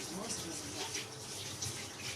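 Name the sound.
water rinsing chicken gizzards and liver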